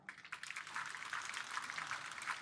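Audience applause at a local government event in San Jose, a steady wash of many hands clapping that holds evenly throughout, moderately loud and fairly close.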